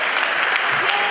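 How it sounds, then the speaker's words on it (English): Audience applause at an amateur boxing event, a steady, dense clapping that fills the whole moment at close range with no talk over it. "How about another round of applause for Amanda?"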